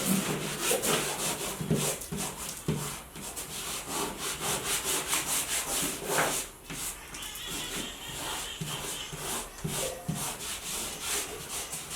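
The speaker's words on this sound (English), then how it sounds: "I pretty much just rub the wall like that to see if I can't lift up anything that's loose." A hand rubs firmly over damaged drywall paper, giving a continuous close, dry scraping and rasping with rhythmic strokes and no talk.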